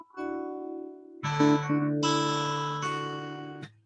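Plucked guitar notes ring out, then a few quick hammered-on notes follow in a short legato phrase, played alone and close up.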